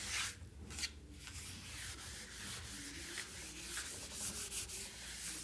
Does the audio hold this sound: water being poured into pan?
no